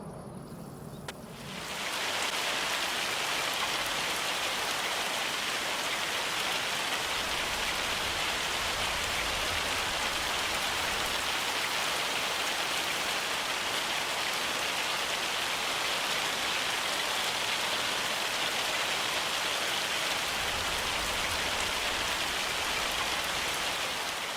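Heavy rain from a hailstorm in Farming Simulator 25 pours down steadily as a loud, continuous hiss that swells in after a brief quiet start and stays constant throughout.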